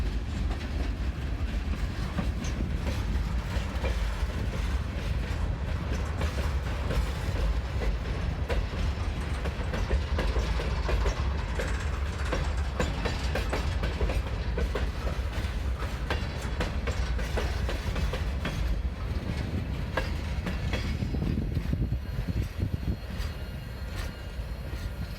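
An empty coal train rolls out of the Corbin rail yards in southeastern Kentucky, giving a steady, loud rumble with continuous wheel clatter and rail noise that holds for the whole stretch without any voices.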